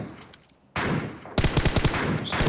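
Rapid automatic gunfire from enemies in the mobile battle royale game PUBG Mobile, loud and close, starting as one dense burst and then breaking into a run of distinct quick shots with no talk over it.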